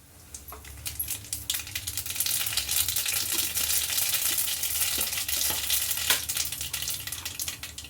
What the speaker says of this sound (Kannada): ಈಗ ಎಣ್ಣೆ ಕಾದಿದೆ, ಅದಕ್ಕೆ ಸಾಸಿವೆ ಹಾಕ್ಕೊಳ್ಳೋಣ